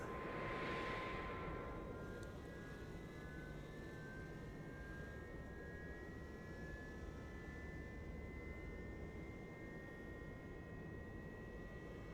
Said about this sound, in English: start the starter for engine 2, the middle engine